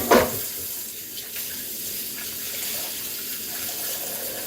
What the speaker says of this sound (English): you put water here because it's sticky